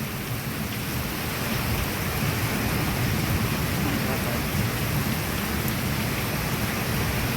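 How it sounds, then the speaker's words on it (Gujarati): Heavy monsoon rain, the season's first, pours down steadily over farmland at sowing time during a thunderstorm, a dense unbroken hiss that stays loud and even throughout. "ધોધમાર વરસાદ વીજળીના કડાકાન ભડાકા આજે ચાલુ જ છે"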